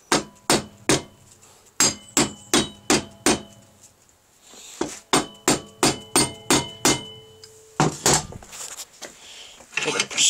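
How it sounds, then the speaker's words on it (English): A hammer strikes a propshaft universal joint clamped in a small vise, landing in rapid bursts of sharp metallic taps. Three runs of evenly spaced blows are separated by brief pauses, with some softer clinks and handling noise between them. "I've got an assortment of hammers."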